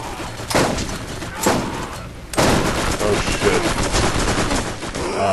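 Gunfire aimed at the player in Borderlands, loud bursts of rapid automatic shots with a brief lull before the shooting resumes heavily, with a voice talking over parts of it.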